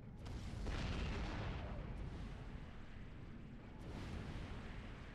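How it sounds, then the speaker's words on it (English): Tactical rocket explosions in the video game Supreme Commander: faint, rumbling low booms and blasts rolling continuously, with sharp impact cracks near the start and toward the end. "With these tactical rockets."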